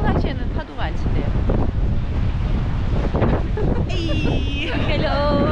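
Strong wind roars across the microphone at the riverside by Belém Tower in Lisbon, with waves splashing underneath in a constant loud rush; a voice briefly rises near the end.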